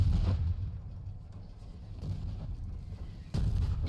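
In a video game, artillery shell explosions land as heavy low booms, one opening the stretch and another striking near the end, with dull rumbling between them.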